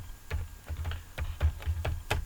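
Quick, evenly spaced clicks of computer keyboard keys as a print statement is typed in code, close and clear with no talking.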